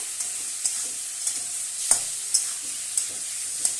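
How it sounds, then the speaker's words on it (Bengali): Tomato paste being stirred in a frying pan, a faint steady sizzle punctuated by regular sharp clicks and scrapes of the spoon against the pan, close up. "এবার আমি টমেটো বাটাটা দিয়ে দিলাম। একটু নেড়ে চেড়ে নেব।"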